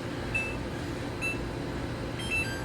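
A kitchen oven timer is set while baking pumpkin spice cut-out cookies, giving three short, thin beeps spaced about a second apart over a steady room hum.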